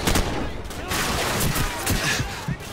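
Close gunfire in Call of Duty 4: Modern Warfare as shots are fired through a wall, a quick run of loud cracks.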